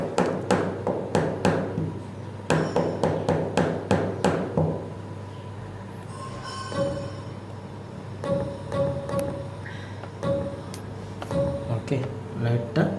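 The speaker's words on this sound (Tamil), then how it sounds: "இது லைட்டாக வெளி பக்கமாக தட்டணும்" A workpiece on a machine set up with a dial gauge gets light outward taps, a fast run of sharp metallic knocks followed by sparser taps while someone talks over the machine hum.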